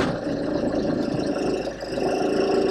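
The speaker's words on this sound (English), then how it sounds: "Let's just start the engine and see what happens to our voltage." A Land Rover Freelander 2 engine runs at a steady idle just after starting, a close, even low rumble with a slight dip partway through and no talking.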